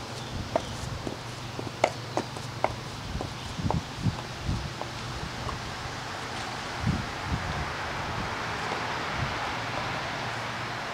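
Wind blows steadily outdoors, a broad rushing noise with buffeting on the microphone, mixed with scattered light footsteps and rustling nearby.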